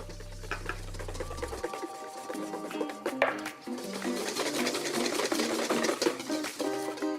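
Egg whites with a pinch of salt are whisked as yolks are added one at a time, a rapid rhythmic clatter of whisk against bowl, close and continuous after a brief low hum at the start.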